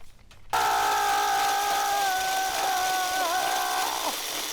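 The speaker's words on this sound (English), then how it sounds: "I'm going to take my whisk and make a bunch of loud noise while whisking it." A whisk beats a liquid glycerin soap mixture, making a loud, continuous whirring and rattling that starts suddenly and holds steady for several seconds, up close and with no talking.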